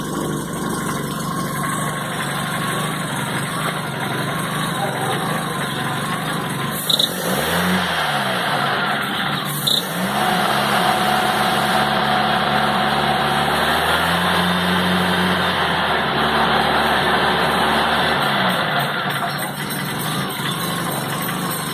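A Kia Rio engine idles loudly without its catalytic converter, with a raw, noisy exhaust drone and several revs rising and falling, including a longer held acceleration midway, all close and steady throughout.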